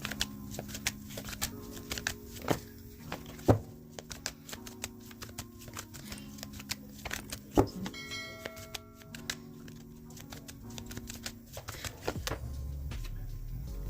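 A deck of tarot cards is shuffled in quick bursts of riffling, slapping and patting, close by, with soft background music underneath.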